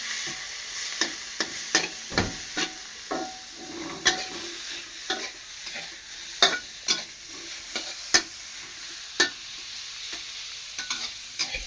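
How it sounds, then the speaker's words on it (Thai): Pork stir-fried in oil in a pan, heard as a soft continuous sizzle broken by a series of sharp spatula scrapes and taps at an uneven rhythm. Close and alone, with no talking. "หมูผัดกับน้ำมัน ให้สุก"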